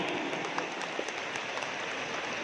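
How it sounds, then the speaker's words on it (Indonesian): Crowd applause for the NasDem Party at a large political rally in Makassar, a dense, steady wash of clapping from many hands sustained throughout, sounding broad and somewhat distant. "Kita beri tepuk tangan dulu untuk Partai Nasdem yang mengorganisir acara ini"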